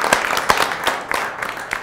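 Scattered hand claps from an audience at a public debate event on whether AI can replace politicians, short crisp claps coming in an uneven patter for a moment.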